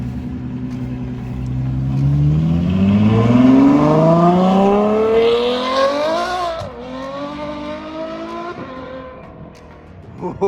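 A Ferrari F12 fitted with a Frequency Intelligence exhaust revs hard nearby, its V12 note climbing steadily in pitch, shifting briefly, then settling back into a lower, rumbling idle.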